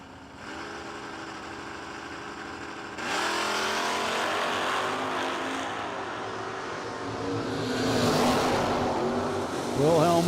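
Drag racing cars, among them a 1978 second-generation Camaro, launch at a no-delay drag meet, with engines revving and surging louder in stages as they pull away and rising tones near the end.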